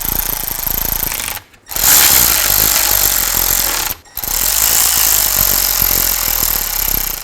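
A rattling impact power tool runs down the bolts on a rear differential cover of a 2000-06 Chevy Tahoe. It makes three loud, close bursts of hammering, each broken by a short pause.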